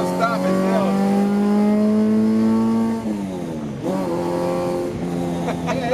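An all-motor H23A-powered Honda Civic on a street pull winds its engine up toward an 8,000 rpm redline, with a loud, rising, close-up whine broken by two gear shifts before climbing again.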